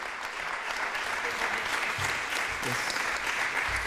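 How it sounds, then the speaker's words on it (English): Sustained applause fills a literary festival hall at the close of a JLF talk, a dense, steady wash of hands that holds throughout, with a voice speaking briefly over it. "A big round of applause to all of them"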